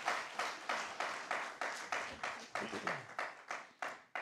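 Audience at a church gathering clapping in a steady rhythmic beat, about three claps per second, moderately loud and continuous with no voices over it.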